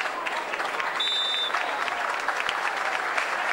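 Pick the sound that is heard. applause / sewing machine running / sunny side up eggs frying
applause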